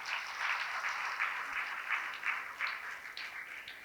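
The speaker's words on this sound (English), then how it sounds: "Can we have a round of applause" Audience applause at a celebration of ability in disability, faint steady clapping heard from a distance, continuing evenly throughout.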